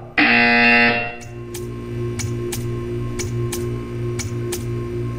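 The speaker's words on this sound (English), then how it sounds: "When you hear the buzzer, stare at the art." A loud electronic buzzer from the Portal 2 video game sounds for about a second, with strong tonal harmonics. It gives way to a steady low hum punctuated by evenly spaced sharp ticks, roughly every half second.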